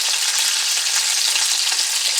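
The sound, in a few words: breaded cod fillet frying in oil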